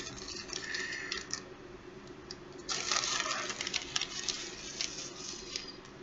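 Calcium acetate powder is spooned into a container, giving soft gritty scraping and light pattering taps at close range, with a brief stronger rustle partway through.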